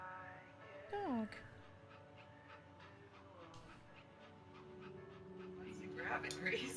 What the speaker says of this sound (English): Grab it, Gracie. It's a real puppy.